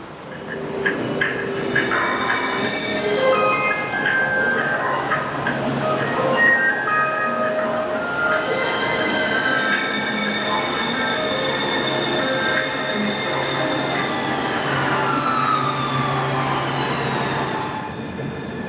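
A Taipei MRT metro train rumbles steadily at a platform, with rising and falling electric motor whines and a brief high squeal, continuous and fairly close.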